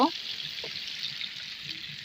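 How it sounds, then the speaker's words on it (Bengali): Padma hilsa fish pieces fry in oil with an even, fairly faint sizzling hiss that runs unbroken, after a brief voice at the very start. "আজকের ইলিশ মাছ আমার ভাজা হয়ে যাচ্ছে এভাবে আমি একদম মুচমুচ করে লাল লাল করে ভেজে নেব"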